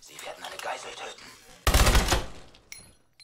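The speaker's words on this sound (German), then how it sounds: "Ich habe gerade zu spät geschossen." Gunfire in the video game Call of Duty Advanced Warfare: a loud, sudden burst of rapid shots that cuts in partway through, following softer game sounds and voices, then tails off into reverberant quiet.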